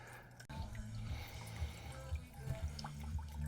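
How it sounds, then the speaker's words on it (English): Top and bottom pumps circulating clear water through a model train layout water feature, giving a close, continuous gurgle and splash with small drips over a low hum and a soft click at the start. "everything, top and bottom pumps are running. We're just running clear water."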